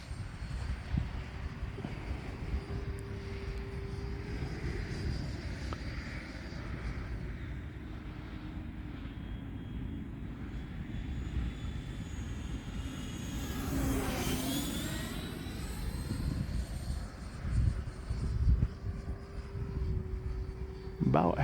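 An E-flite 90mm Viper RC jet cruises at half throttle, its ducted-fan hum steady and moderately distant, with a brief whooshing pass near the middle.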